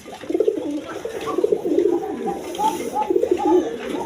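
Snake-eyed male pigeons for sale at a farm coo in repeated rolling phrases, close and fairly loud, with a low murmur of other birds underneath.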